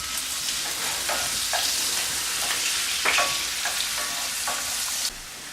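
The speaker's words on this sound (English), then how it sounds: "I like to cook the bacon first to get it going before I put the onion in so that the onion doesn't cook too much." Bacon and diced onion sizzle steadily in a pan, a continuous loud crackle with occasional sharper pops and a few stirring scrapes, no voices.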